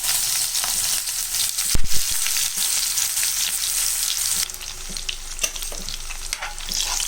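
Ground garlic and chili paste hits hot oil in a pan, giving a loud, dense sizzle with a burst of spattering as it goes in, then continuous frying and stirring up close.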